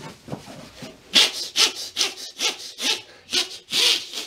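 A voice imitates a hand saw cutting through wood, producing about eight rhythmic, breathy rasping strokes in steady back-and-forth succession, close and fairly loud with no other sound.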